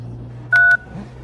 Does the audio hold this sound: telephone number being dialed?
yes